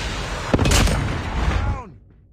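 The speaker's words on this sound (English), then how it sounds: "Friendly Predator missile inbound." In Call of Duty Mobile, a Predator missile strikes with a heavy, close explosion that rolls into a rumbling boom and fades out, with a faint voice underneath.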